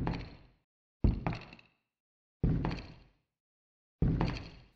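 Heavy mechanical footsteps made from shoes struck on a wooden chair and pitched down: four deep, resonant thuds at spaced intervals, each decaying quickly into silence.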